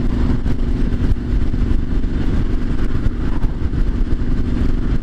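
A Triumph Street Scrambler 900 motorcycle rides through town, its steady mid-pitched engine thrum running close and loud throughout with light clatter and small swells of throttle.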